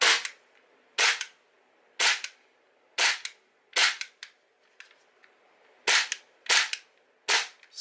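A Tokyo Marui FN 5-7 airsoft pistol with an upgraded Guarder slide and frame is dry fired with an empty magazine, giving nine sharp, close snaps as the slide kicks back, spaced roughly a second apart.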